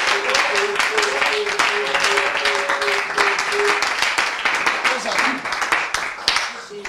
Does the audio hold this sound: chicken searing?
no